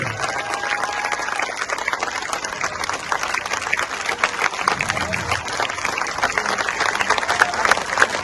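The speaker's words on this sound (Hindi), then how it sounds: "ताली जोर से ताली बजाइए" A crowd at a Jan Suraaj political gathering claps continuously, loud and uneven, with some background chatter mixed in.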